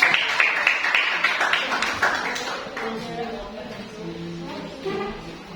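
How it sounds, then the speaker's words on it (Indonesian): A classroom of students claps briefly for a student group at the end of its presentation, a short burst of hand claps that fades after a couple of seconds, with voices and other sounds continuing. "beri tepuk tangan kelompok"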